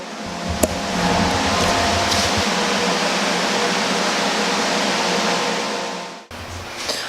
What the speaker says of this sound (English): I've got the welder going, the fan going